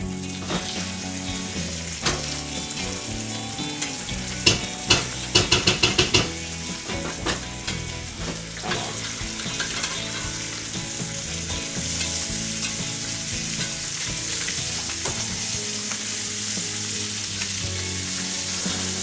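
Sous vide steaks searing in a hot pan after being flipped, a loud continuous sizzle with a few sharp clatters early on, over background music and with no talk.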